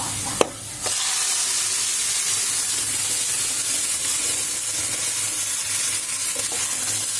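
Cooked bottle gourd dropped into hot oil with panch phoron, garlic and browned onion, giving a sharp clatter and then a steady, close, loud sizzle that keeps hissing evenly.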